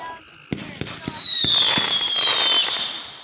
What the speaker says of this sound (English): After a few of these fireworks,